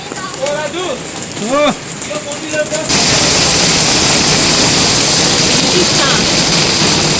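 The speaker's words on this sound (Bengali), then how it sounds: "শিলা বৃষ্টি হচ্ছে" A hailstorm at New Mahakal Market in Darjeeling starts abruptly after a few seconds of talking and becomes a loud, dense, continuous pelting roar that fills the rest of the clip.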